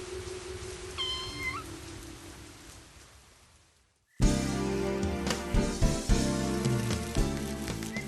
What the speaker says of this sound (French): Un petit chat tout fragile sous la pluie.